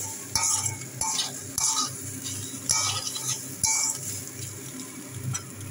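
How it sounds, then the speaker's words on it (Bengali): Soya chunks frying in oil in a pan, stirred with a spoon, with repeated metallic scrapes and clinks over a continuous close sizzle; no talk. "যা তেল ছিল ওই তেল দিয়ে আমি সয়াবিনগুলো ভেজে নেব।"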